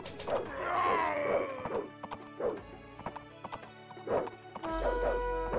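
Horses ridden onward in the video game Age of Empires: Rise of Rome give a quick clip-clop of hooves in bursts with a neigh-like cry, ending in a brief steady tone, with no talk over it.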